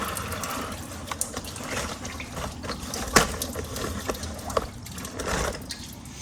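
Coolant drains from a V8-swapped 1986 Chevrolet S-10 in a steady, faint trickle and splash of liquid into a container, with a few small clanks and gurgles over low background hum.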